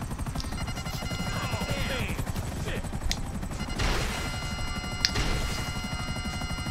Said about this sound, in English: Yeah, we break the shit out of that fucking helicopter.